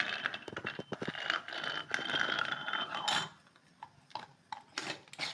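A sev press being pressed down and its lid closed, giving a run of dense mechanical clicks, scrapes and metallic clatter close by, then a few sparser knocks toward the end.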